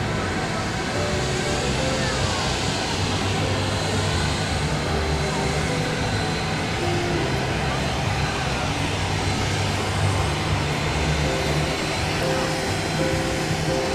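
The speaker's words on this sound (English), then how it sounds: "Have a biz jet on the move over here." A business jet taxis at McKinney National Airport during an airport display day, its steady engine roar filling the whole stretch at a constant, fairly loud level with crowd noise beneath.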